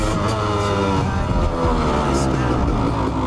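A Honda CR 250 two-stroke motorcycle engine revs hard and steadily while riding up through the gears, loud and close throughout with no break.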